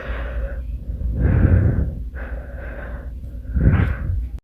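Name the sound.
a man breathing, presented as an annoying sound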